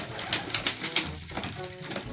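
A domestic racing pigeon coos softly several times close by, in short repeated throaty calls with faint background noise.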